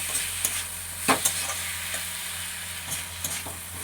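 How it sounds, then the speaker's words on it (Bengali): Ginger, cumin and garlic paste sizzles steadily in a pan while a spoon scrapes and stirs it in irregular strokes, close and clear, with no talking. "এবার এটাকে ভালো করে কষে নেব।"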